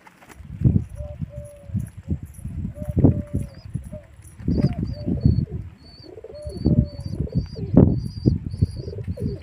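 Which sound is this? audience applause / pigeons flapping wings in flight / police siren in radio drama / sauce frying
pigeons flapping wings in flight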